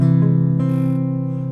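A sustained guitar chord rings out with a tense, unresolved color, picked again twice in quick succession before slowly decaying. No voices.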